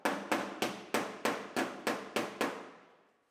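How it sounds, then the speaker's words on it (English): Nine evenly spaced, ringing metal hammer blows on a dented Ford Mustang fox body fender, loud and close, each strike decaying briefly before the next and the last one fading out. "Push out on the fender and hammer it at the same time"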